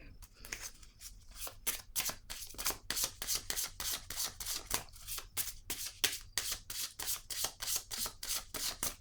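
Tarot cards are shuffled and drawn by hand in a rapid regular series of crisp papery snaps and riffles, close and fairly quiet, with brief pauses between bursts.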